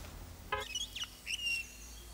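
A few short bird chirps and tweets ring out over a quiet outdoor background, sparse and fairly close.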